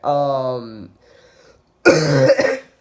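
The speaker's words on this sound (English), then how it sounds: "I'm just gonna have a little cough" A slightly sick 14-year-old boy gives a short, rough cough after speaking, one harsh burst that follows a pause in his voice.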